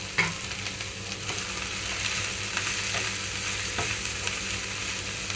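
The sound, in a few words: cut cabbage and green chillies frying in a pan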